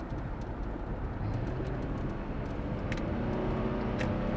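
A car pulls around a slow driver on the road, with a steady broadband engine and road roar recorded from inside the cabin, holding constant and fairly loud.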